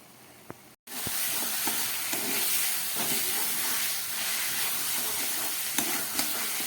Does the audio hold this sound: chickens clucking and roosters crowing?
no